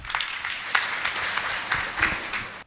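A crowd at a teachers' gathering in St. Thomas Church, Sandor, applauds with steady, dense clapping that holds for a couple of seconds, then cuts off abruptly.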